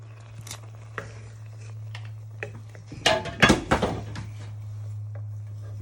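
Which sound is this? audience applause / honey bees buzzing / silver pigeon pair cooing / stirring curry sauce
stirring curry sauce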